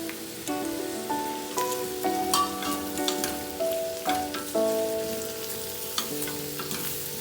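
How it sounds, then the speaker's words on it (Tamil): Pumpkin sizzles as it sautés in oil in a pan, a steady crackling and frying hiss with scattered pops, moderately loud, heard alone with no voices. "ஓரளவு வதங்கினா போதும்."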